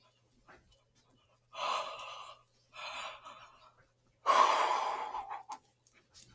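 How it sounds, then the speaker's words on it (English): Someone takes deep breaths during a guided healing session, three slow, close, breathy inhales and exhales separated by quiet pauses. "Nice big deep breaths."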